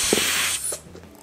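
Helium gas hissing out of a balloon, a close, steady, loud hiss lasting about half a second before it drops off, with a faint rubbery squeak near the end.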